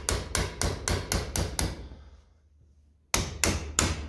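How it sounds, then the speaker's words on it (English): A plastic hammer taps on the diesel injection pump of a Ferguson TE20 tractor: seven quick, evenly spaced sharp knocks, a short pause, then three more, loud and close with no talk. "rather than tapping it too much, this is only a plastic hammer by the way"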